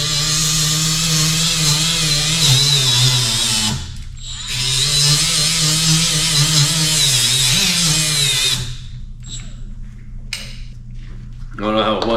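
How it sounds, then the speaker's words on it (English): Milwaukee M12 angle grinder cleaning up a missed weld on a Ranger frame, a loud whining motor in two long bursts with a short pause, spinning down at the end, close up. "So I have their M12 angle grinder."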